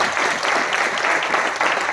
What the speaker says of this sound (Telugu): అందరూ చప్పట్లు కొట్టి ఆహ్వానిస్తారు.